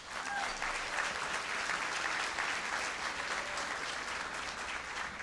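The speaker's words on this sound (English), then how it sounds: "Please give them a round of applause as well." A gala audience at an education excellence evening applauds volunteers and organizers, a dense, steady wash of many hands clapping at an even level throughout.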